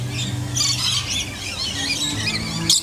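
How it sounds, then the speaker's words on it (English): Many birds squawk and screech at once in an aviary, a busy, continuous chorus, loud and close, with no talking. "There's a lot of birds in there."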